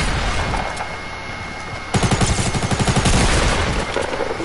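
Rapid automatic gunfire in a video game, a loud, close, continuous stream of shots after a quieter stretch of game noise, with no voices.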